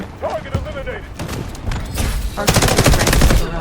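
Bursts of automatic gunfire in the military shooter Delta Force Hawk Ops, a scattered volley early on, then a dense rapid-fire stretch in the last second, loud and close with game effects mixed in.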